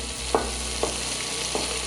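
Shallots sizzling in a pan beside smoked pork shoulder, a steady soft frying hiss with three brief clinks of a utensil spaced across the moment, close and without voices.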